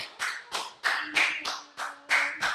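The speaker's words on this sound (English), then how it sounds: "let's give a round of applause for One Love Athena" Several distinct, evenly spaced hand claps, about eight in a slow, steady rhythm, ring out close by as a podcast welcomes its guest One Love Athena; no one speaks over them.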